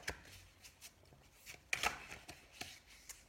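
Tarot cards shuffled by hand during a card reading, a few soft riffling bursts and taps, quiet and close with no talk.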